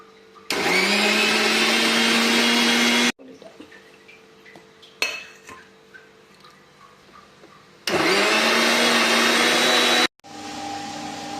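A kitchen mixer grinder crushes cumin, coconut and garlic for a homestyle jackfruit curry, running in two loud whirring bursts of a few seconds each. Between them come lid and jar clatter, clinks and quieter handling noises.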